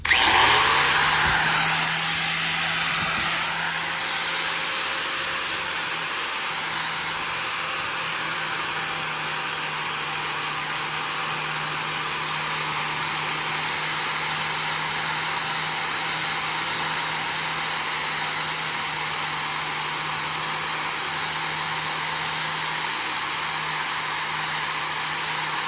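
Die grinder fitted with a sanding disc for steel working the edge of plexiglass, a loud, high steady whine with a constant grinding hiss that runs unbroken for the whole stretch, close up and without talk.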